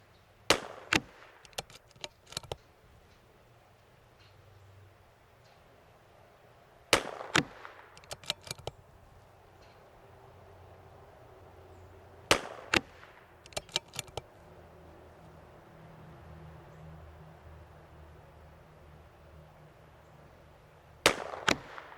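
A CZ 457 .22LR rifle fires at targets in sharp, fairly quiet cracks, arriving in small clusters of two to four shots separated by pauses of several seconds, with faint background noise between.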